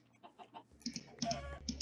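In the game Minecraft, a chicken gives several short, soft clucks in a row, faint and close, with quiet typing-like clicks in the background and no talking.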